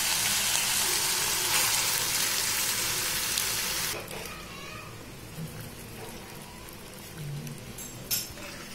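Mashed yam stirred into sautéed tomatoes in a hot pan, with a loud sizzling hiss at first that drops to quieter bubbling and occasional utensil clinks.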